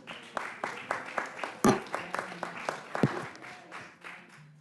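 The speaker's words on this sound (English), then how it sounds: "I think that applause indicates performance" Clapping in a US House Rules Committee hearing on a tax bill: a modest, fairly steady run of distinct hand claps from a small group, moderately loud and tapering off near the end, with faint voices underneath.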